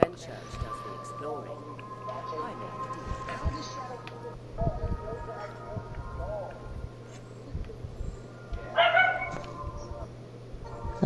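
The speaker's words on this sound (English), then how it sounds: "That's my dog, Yami." A dog yips and barks in short, scattered bursts, fairly faint, under a steady hum and some talking.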